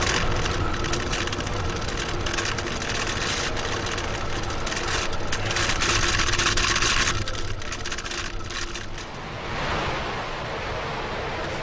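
A SpaceX rocket's nine Merlin engines roar in a night launch, heard as a dense, continuous broadband rumble from far away, steady throughout and easing slightly near the end.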